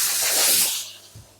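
A steam cleaner blasts a loud, broad hiss of steam onto car interior seats for under a second, then cuts off with a faint thump after.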